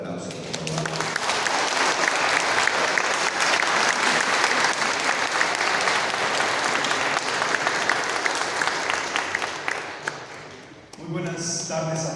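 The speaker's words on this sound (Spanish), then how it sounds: "vamos a recibirlo con un fuerte aplauso" Loud, sustained applause from a large crowd at a parish training week fills most of the clip, then fades as a voice begins speaking.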